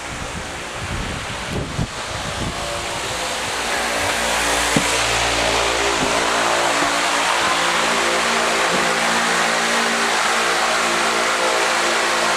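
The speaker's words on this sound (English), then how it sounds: "That's the truck." A truck engine idles steadily close by, with a brief rise in revs and a continuous low rumble mixed with wind noise at an outdoor work site.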